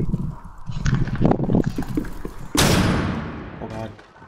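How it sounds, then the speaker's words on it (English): Gunfire in Rainbow Six Siege, a muffled flurry of shots followed by one loud close blast that rings and decays, with players talking over it. "I think he's just shooting"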